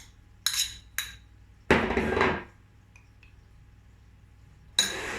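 Butter and anchovy are worked in a mortar, heard as a few sharp utensil clinks, then a louder grinding scrape, then quiet before another clink; the sounds are close and there is no speech.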